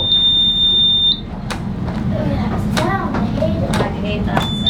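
A vehicle's startup warning sounds as a shrill, steady electronic beep that stops abruptly, then chirps again briefly, loud and close, while people talk underneath.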